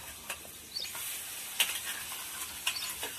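Ground chilli and spices sauté in a pan for a village dish, giving a soft steady sizzle with occasional light stirring clicks and scrapes, faint and close, no voices.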